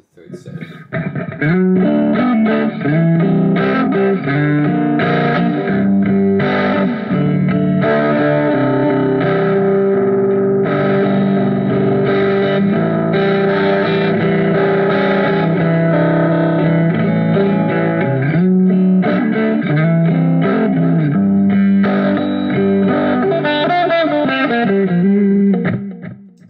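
An electric guitar played through a Positive Grid Spark 40 amp on a high-gain setting, with thick distortion plus echo and reverb, ringing chords and sustained notes continuing for over twenty seconds without talk.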